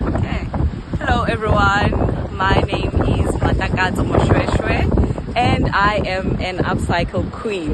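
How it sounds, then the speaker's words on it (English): Strong wind blowing on the microphone at Gordon's Bay beach, loud low rumbling gusts running throughout beneath someone talking close to the mic. "Gordon's Bay is very windy"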